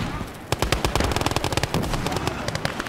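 Maxim machine gun firing in the WWII shooter Gates of Hell, a loud rapid burst of shots starting after a brief pause and continuing steadily to the end, with other gunfire mixed in.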